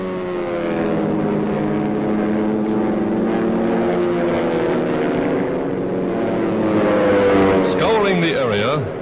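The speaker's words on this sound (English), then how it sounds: "From nearby aerodromes, United Nations pilots take to the sky in fast fighting pursuit ships." WWII fighter pursuit planes taking off from an aerodrome, a steady loud engine drone with shifting harmonic tones that swells near the end, heard under a newsreel narrator's voice.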